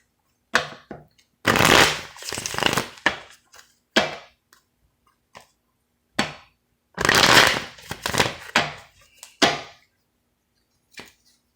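Tarot cards are shuffled in several separate bursts, crisp riffling and flicking close up with quiet pauses between, and no talking.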